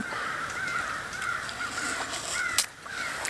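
Many crows caw repeatedly over a house during a fall walk toward a creek, harsh calls overlapping at a moderate distance against a steady outdoor hiss, with no talking.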